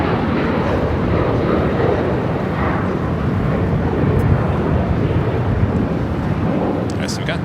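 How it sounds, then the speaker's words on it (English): A United Airlines Boeing 737-900ER departing LAX for Houston makes a loud, continuous engine roar with gusty, rumbling texture throughout, and voices are partly heard beneath it. "This flight heading to Houston, Texas. Flight 2237, United Airlines, in the 737-900 ER."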